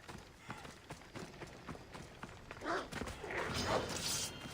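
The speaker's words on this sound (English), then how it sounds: "distracted by the horse" A horse gallops in the video game Assassin's Creed Odyssey, rapid hoofbeats on the ground growing louder toward the end, with faint voices and background game sound.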